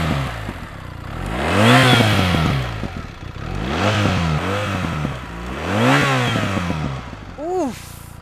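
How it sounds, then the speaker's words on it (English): A BMW R 1300 GS adventure motorcycle's boxer engine is revved in neutral, three rising and falling throttle blips followed by a shorter fourth, close and loud with a clattery mechanical edge over the idle. "I can turn on the motorcycle now."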